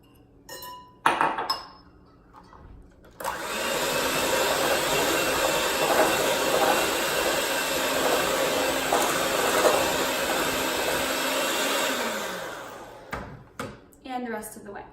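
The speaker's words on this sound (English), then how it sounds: "Add 1/2 the wet. Mix it." An electric mixer whirs steadily through cupcake batter for several seconds, a loud continuous buzzing drone, bracketed by clinks of bowls and utensils before and after.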